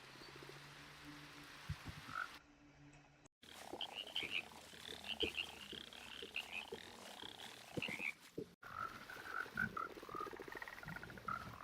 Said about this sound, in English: let's breed up some more frogs